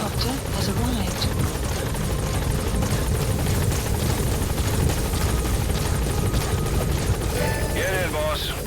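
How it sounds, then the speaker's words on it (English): Support helicopter from Metal Gear Solid V arriving at a landing zone: a steady, loud rotor thrum with turbine whine holds throughout, with brief electronic game sounds near the end. "Support helicopter has arrived."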